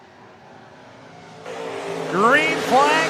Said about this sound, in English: Green flag is out and we are underway for heat race number 2 here for the Worthington Glass Stock Cars.